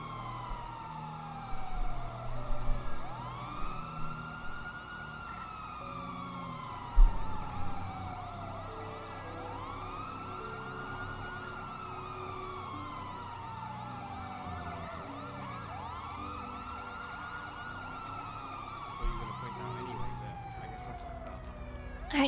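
An ambulance siren wails in long, repeating rising and falling sweeps, steady and fairly close, with a low rumbling background and brief knocks beneath it.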